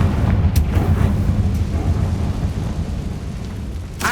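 Loud, rumbling spell blasts from the Confringo fire charm in Hogwarts Legacy, a deep sustained roar with sharp bursts near the start and end, no voices over it.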